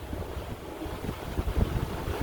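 Steady wind roars over a sailboat under way in winter, gusting past 20 knots with low rumbling buffets and water noise building toward the end; no one speaks.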